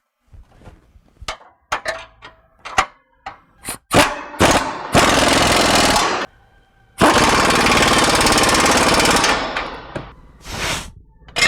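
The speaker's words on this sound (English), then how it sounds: "put all the bolts back in, tighten them all down really tight" Power tool driving and tightening bolts on a Jeep Wrangler crossmember and gas tank, with short stuttering rattling bursts, then two long loud hammering runs, close up in a garage.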